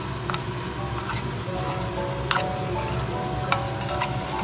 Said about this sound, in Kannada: ಈಗ ನೋಡಿ, ಮಶ್ರೂಮ್ ಎಲ್ಲ ಫ್ರೈ ಮಾಡಿಟ್ಕೊಂಡಿದ್ನಲ್ಲ ಅದನ್ನು ಹಾಕ್ಕೊತೀನಿ